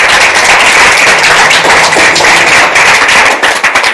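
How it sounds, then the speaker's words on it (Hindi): A college audience at an inter-college quiz event applauds, giving loud, dense and sustained crowd clapping with a crackling texture that stays even throughout and thins slightly near the end. "आप लोग खुद अपने लिए तालियां बजा करके अपना उत्साहवर्धन कीजिए।"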